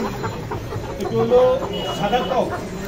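A white rooster and other chickens cluck close by in short bursts at a Dhaka market poultry stall while people talk over them.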